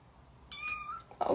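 A four-week-old kitten lets out one clear, fairly faint high-pitched meow held for about half a second, with a brief louder squeak right after, in quiet surroundings and with no talk.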